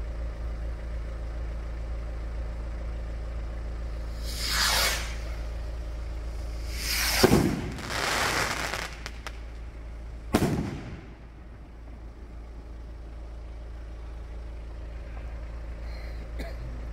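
Halloween fireworks go off as four or five separate booms with short crackling tails, fairly distant, spread out across the stretch over a constant low rumbling hum.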